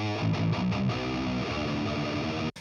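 A distorted electric guitar riff is recorded solo through an Austrian Audio OC818 microphone placed close to the speaker cabinet, with thick chugging notes that stop abruptly at the end.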